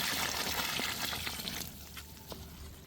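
Water is poured into rice for a large batch of soybean biryani, a steady close splashing pour that thins to a lighter trickle partway through.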